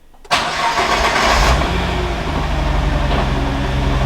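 A Nissan R35 GT-R with 1050cc fuel injectors and a freshly re-flashed tune cranks and fires up abruptly, then settles into a loud, steady idle close by, with no talking.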